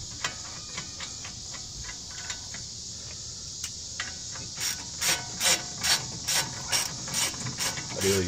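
A ratchet clicks as it tightens the caliper bracket bolts on the brakes of a 2009 Chevrolet Tahoe. Short rapid bursts come first, then louder, evenly spaced strokes close by in a quiet garage.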